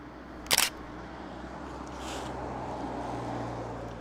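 A single sharp camera shutter click for focus-stacked photos, close and distinct near the start, followed by quiet room and wind-like background noise.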